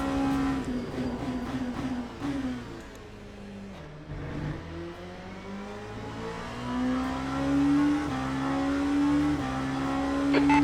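Race car engines in the Le Mans Ultimate sim racing game, a multiclass race at Bahrain, drone steadily with rising and falling revs and gear changes, loud and continuous throughout, with no talk.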